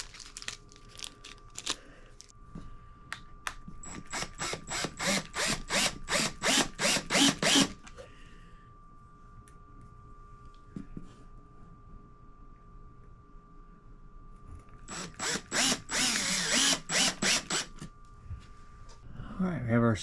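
Power drill driving mounting screws while an RV air purifier is installed, with bursts of rapid ratcheting whirs separated by quieter pauses with some handling noise.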